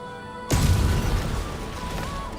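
Bombs go off in the game Genshin Impact: silence, then a sudden loud blast that rumbles and crackles as it slowly decays.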